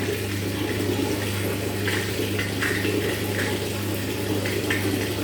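Hot water pours steadily into a small tub for a child's bath, a continuous close splashing rush with a low hum underneath and no break throughout.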